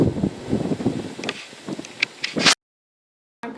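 Gusty wind buffets the microphone outdoors on a homestead in late September, in uneven bursts, then a short silence before the rumble returns.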